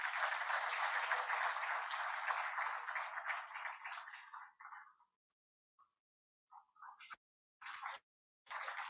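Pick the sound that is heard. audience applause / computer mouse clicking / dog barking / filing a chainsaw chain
audience applause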